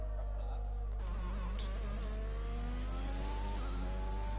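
A racing car engine in a Codemasters racing video game, set at Bahrain, whines and rises in pitch through gear changes, a thin buzzing drone over a constant low hum, with no voices.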